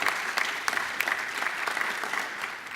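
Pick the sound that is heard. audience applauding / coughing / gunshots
audience applauding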